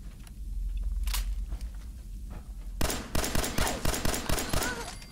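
Rapid bursts of gunfire in the video game Fallout 4 crack in quick succession, sharp and repeated, after a few isolated shots over a low rumbling background.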